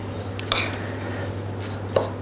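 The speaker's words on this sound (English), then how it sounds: "give these a little bit of a mix together" Muffin batter of banana, oats and dry ingredients being stirred in a bowl, with a couple of light clinks of utensil against the bowl over a steady low kitchen hum.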